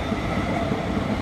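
London Midland Class 350 electric train, unit 350114, at London Euston on a service to Crewe via Stoke-on-Trent, giving a steady low rumble of rolling stock close by, continuous and fairly loud without speech.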